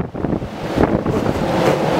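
Strong, gusty high winds in Los Angeles, loud and rumbling as they batter the microphone, surging and easing over two seconds with no speech.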